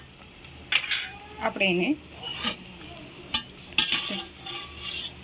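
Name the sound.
stirring cauliflower-potato sabzi with coriander in a pan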